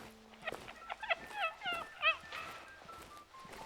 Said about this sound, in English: I just heard a new bird sound, so it sounds like maybe we got some new ambient birds in here.